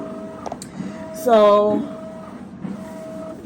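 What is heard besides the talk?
Canon TM-200 printer printing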